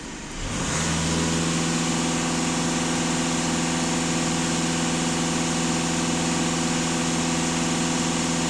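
A VW Passat B8 with a 2.0 TDI EA288 diesel engine is pushed to full throttle, rising quickly from a low rumble into a loud, sustained, steady drone that holds at constant pitch, close and alone with no talking.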